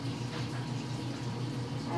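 Running water splashes and pours as a washcloth is rinsed, a steady close liquid wash with faint gurgling texture holding at an even level for the whole stretch.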